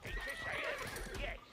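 A horse in a video game lets out a loud, wavering whinny close up, with hooves clopping beneath it in one short burst.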